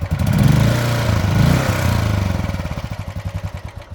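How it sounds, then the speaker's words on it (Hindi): A Yezdi Roadster motorcycle idles around 1000 RPM with a deep, loud exhaust note that settles into an even, pulsing thump. "this is the exhaust note at around 1000 RPM"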